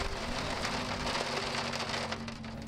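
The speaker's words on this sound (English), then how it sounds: "You can see in the video that we had a major hailstorm there" A major hailstorm at the Pikes Peak International Hill Climb pelts surfaces in a dense, steady rattling patter, loud and continuous throughout.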